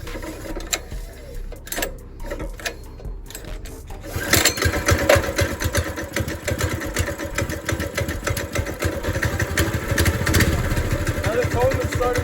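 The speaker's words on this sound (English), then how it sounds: "Coleman started on the first pull." A small Coleman mini bike engine starts up and settles into a steady, rapid idle after quiet handling sounds. It runs loud and close in the open for the rest of the stretch.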